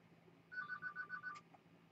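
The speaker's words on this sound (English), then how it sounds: "My phone's ringing." A phone rings with a short electronic tone repeating about six times in a quick pulsing pattern, fairly clear against a quiet room.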